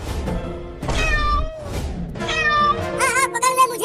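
A cat meows several times in close succession, bright drawn-out cries with short gaps between them, loud and near.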